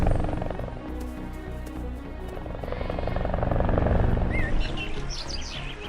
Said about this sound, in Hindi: सारे हेलीकॉप्टर्स नदी के पास आ जाते हैं